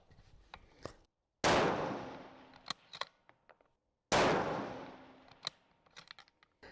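Two loud rifle fouling shots at an outdoor range, each a sharp crack with a long decaying echo, separated by a few seconds and surrounded by faint clicks and handling noises.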